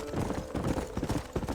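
A horse gallops with quick, rhythmic clip-clop hoofbeats in the western video game Red Dead Redemption, heard briefly and fairly softly with no voices.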